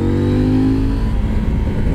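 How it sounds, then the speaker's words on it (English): A CFMOTO Ibex 800 T motorcycle with its stock exhaust revs hard, a loud, close engine note that rises and then holds a gritty, grunting drone. "Ibex has such a cool grunt out of its throttling from the get-go"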